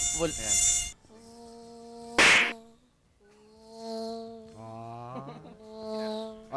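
A voice imitates a mosquito with a thin, wavering nasal buzz, repeated in several drawn-out stretches, interrupted once by a sharp burst of noise.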